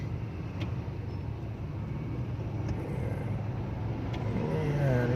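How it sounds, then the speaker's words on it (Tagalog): A car idles and creeps forward in heavy, jammed road traffic, a low steady engine rumble with the broad hum of surrounding vehicles and no talk. "Ayan oh, haba ng traffic mga idol."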